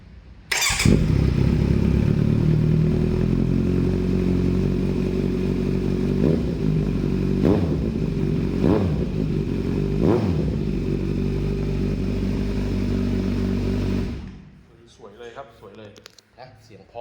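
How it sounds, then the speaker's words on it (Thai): A 2018 Kawasaki Z900SE's aftermarket exhaust runs loud and steady for about 14 seconds, with several sharp throttle blips around the middle, then cuts to quieter background sounds at the end. "เรามาฟังเสียงท่อกันหน่อยครับ ท่อมันอาจจะดังหน่อยนะผมว่านะ"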